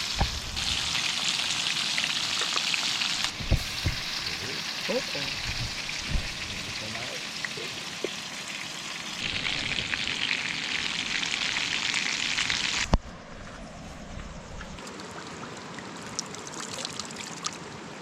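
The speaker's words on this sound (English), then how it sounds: "now cleaned and sliced and in the frying pan" Cleaned, sliced fish fry in a pan at a riverside camp, giving a steady hissing sizzle throughout with a few clicks and knocks. The sizzle fades a little toward the end.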